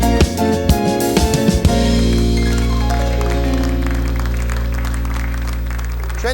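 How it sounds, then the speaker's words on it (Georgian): A studio audience on a Georgian late-night TV show applauds for the guests, sustained loud clapping that swells and then slowly fades under a rising musical tone. "დღეს ჩვენთან სტუმრად აპლოდისმენტები ჩვენს ძმას და მეგობარს."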